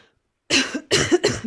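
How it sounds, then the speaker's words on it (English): Three harsh, broad coughs in quick succession after a brief silence, close and loud, with no talking. "I am very sick and am coughing every"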